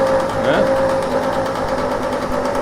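A Peugeot Fox moped engine runs steadily after a single kick start, a close, continuous buzzing idle with a rough, slightly wavering tone and no pauses.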